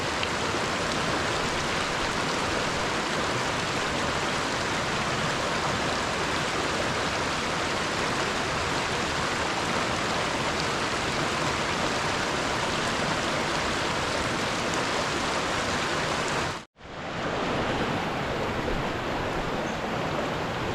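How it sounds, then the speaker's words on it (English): Mountain river water rushes in a steady, loud, unbroken wash of noise. It cuts out for a moment near the end, then resumes. "I'm gonna gather up some water from the river."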